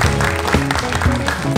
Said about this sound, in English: A big round of applause to Miss Eleanor Reyes from U-Train.